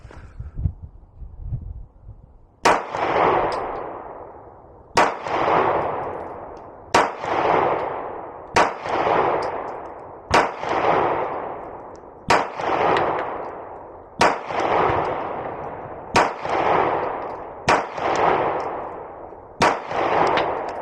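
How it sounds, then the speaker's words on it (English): Sig Sauer P365 pistol fired at a shooting range, about ten loud, sharp shots spaced a second or two apart, each with a ringing decay, following a brief quiet stretch at the start. "send my first shot into the black, and then I'm just going to chase that first shot"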